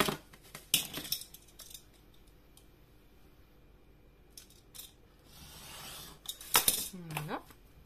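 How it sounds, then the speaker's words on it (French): Paper cut with scissors for a sea-themed album: a few quiet snips and rustles near the start, soft handling noises, then a louder cluster of cuts and a crisp paper swish near the end, otherwise a quiet room. "On va couper à 10 cm."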